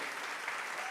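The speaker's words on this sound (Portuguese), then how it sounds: "Vamos honrá-los mais uma vez com uma salva de palmas aí." A church congregation gives a brief round of applause for its theatre team, an even, distant-sounding wash of clapping heard faintly throughout.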